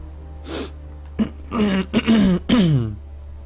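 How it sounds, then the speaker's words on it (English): A person clears their throat several times in quick succession, harsh raspy bursts close to the mic with a low steady hum beneath. "Clear my throat."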